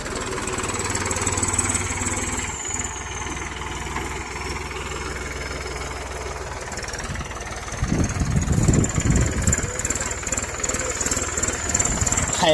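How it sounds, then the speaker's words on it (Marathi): A tractor engine runs steadily in an open field in Satara, a mid-pitched mechanical drone that grows louder and rougher near the end as the machine comes closer, with faint speech in the background. "ट्रॅक्टर फिरतोय हे बघा."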